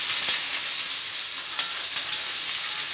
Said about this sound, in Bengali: এবারে আমি এই বেগুন ভাজার তেলের মধ্যেই পেঁয়াজ ছেড়ে দেব।